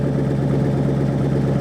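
A Ford Mustang idling with an SLP Loudmouth axle-back exhaust, a close, steady, raspy low rumble with an even pulsing throb and no revving.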